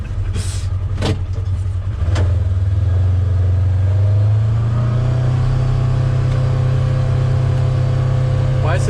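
A 2009 Honda Accord V6 engine runs at a steady, sustained high idle, a loud continuous drone heard up close with a brief rise early on and voices talking over it.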